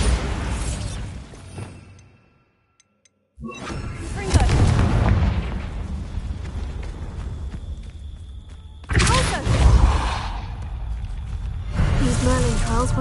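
A Bombarda explosion spell in Hogwarts Legacy: heavy booming blasts with a loud low rumble that drop to near silence, then return as a sustained rumble and a second strong impact, while speech runs over parts of it.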